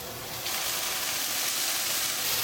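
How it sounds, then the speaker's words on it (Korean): Carrots stir-fried in a pan for japchae give a steady, close sizzling hiss that swells up after a brief quieter moment and holds evenly, with no talking. "당근을 볶아줄게요"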